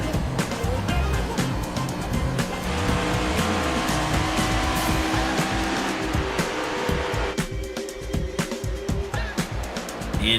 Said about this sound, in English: To the back stretch, building up some speed. We're going to stay on board here with the number 53 car, Brian Samara.